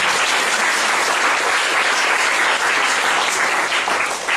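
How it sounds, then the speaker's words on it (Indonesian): An audience at a church seminar in Sentani, Papua, breaks into sustained, dense applause, a loud, even wash of many hands clapping together with no voices over it. "Berikan tepuk tangan dari Tuhan."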